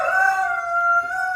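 A rooster crows in a barn among chickens and hens, one clear sustained call heard close and fairly loud with no talk.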